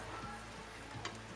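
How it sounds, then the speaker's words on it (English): Faint, steady sizzle of ghee heating on a paneer dosa in a hot pan, a soft continuous frying hiss with a small clink near the end. "Now I'll add some ghee on top."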